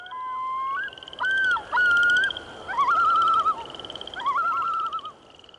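A loon call from the SimPark video game: wild, quavering tonal cries that rise and wobble, repeated several times over a steady background tone with no talking.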